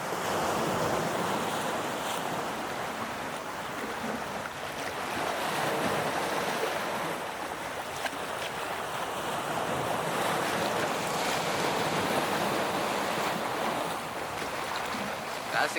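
Ocean waves roll and crash continuously on Plabuan beach, with wind rushing across the microphone throughout; a constant, loud outdoor wash of surf.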